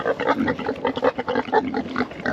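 Pigs squeal and grunt in quick overlapping bursts, loud and close, with excited snorting throughout.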